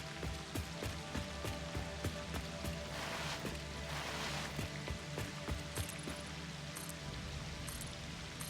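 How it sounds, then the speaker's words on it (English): Rain heard from underwater in the Satisfactory video game, a steady crackling patter with scattered ticking drops and clicks, moderately loud and continuous with no talking. "It's a pleasant rain sound effect, which is something really hard to get in video games."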